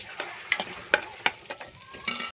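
Clams stirred in a hot pan, with a steady sizzle broken by several sharp scrapes and knocks of the spoon against the pan, close and moderately loud, with no talking.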